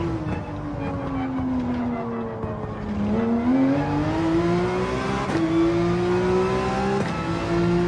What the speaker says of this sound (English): Let's see what the 911 can take in regards to acceleration and braking, going in and out of the bends